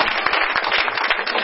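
A church congregation claps together during a worship service, a brisk, steady run of hand claps close by with no voices over it.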